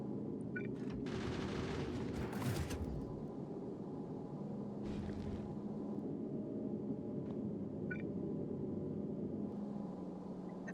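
Gun turrets firing in the Factorio game, with bursts of rapid automatic fire over a low droning background, moderately close, and a few separate short cracks later on; no voices.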